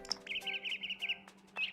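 A bird sound effect on a Nintendo 3DS prototype: a short synthetic chirp, a quick warbling trill held for about a second, then a brief final tweet, clear and close.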